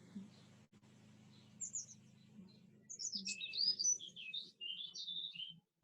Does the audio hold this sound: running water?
no